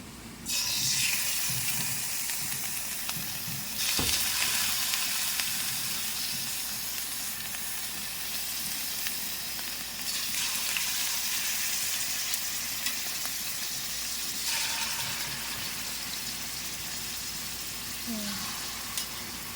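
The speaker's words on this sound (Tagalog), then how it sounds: "Prituhin na natin." Pork pieces frying in a pan for Filipino adobo, giving a steady, loud, hissing sizzle that fills the whole stretch with slight swells, and a brief clank near the start.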